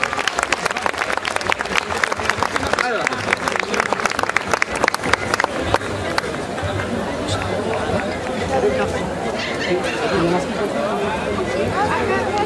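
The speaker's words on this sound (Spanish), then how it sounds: "Un aplauso de fuerte para el pastor de pastores." Loud audience applause for a mariachi performance in a parish church, dense clapping for several seconds that fades into crowd chatter and murmuring.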